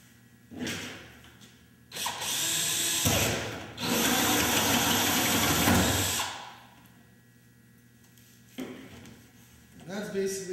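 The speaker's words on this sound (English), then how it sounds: "affix your whole hog onto your drill, bring down your actual can, and I'm going to start drilling my holes" Power drill with a hole saw cutting holes into a metal can for a homemade composter, a couple of loud grinding bursts lasting a few seconds each with short pauses, broken by brief motor starts and stops.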